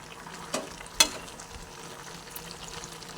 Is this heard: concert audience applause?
no